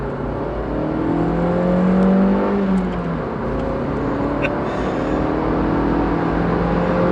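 A 2018 Suzuki Swift Sport's small engine accelerates steadily, its droning tone rising through the gears, close and loud with a constant road whir underneath.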